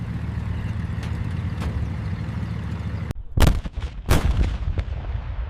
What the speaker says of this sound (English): Five different spigot mortars fired at a moving tank.